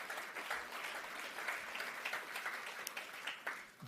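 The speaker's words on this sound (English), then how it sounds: "I wish you to all applaud yourselves for this brilliant" Audience applause at the closing plenary of a forum, a steady, dense wash of many hands clapping heard from a distance at fairly low level, continuous throughout with no voices.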